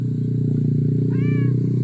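A cat gives one short, clear meow near the end, heard over a loud, steady low mechanical hum close by.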